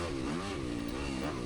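A Yamaha YZ 250FX dirt bike engine revs and surges while riding, a close, loud buzzing drone rising and falling in pitch with throttle changes, no voices.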